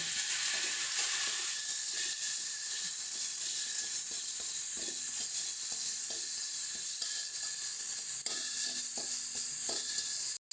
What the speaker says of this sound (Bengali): দিয়ে দেব স্বাদ মতো লবণ, শুকনো লঙ্কা গুঁড়ো, সমস্ত কিছু দিয়ে ভালো করে মশলাটাকে কষিয়ে নেব।